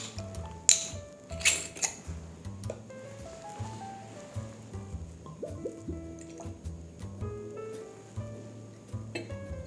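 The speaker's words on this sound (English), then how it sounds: "Let's open it and let's pour it." Warbler Reserve blended Scotch whisky is opened and poured from the bottle, a soft liquid trickle and drip with a couple of glassy clinks over faint background music, fairly quiet and steady.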